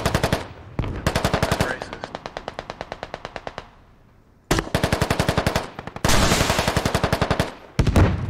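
Automatic gunfire in the Squad military shooter game, with long close bursts of rapid shots separated by short pauses and a few sustained volleys.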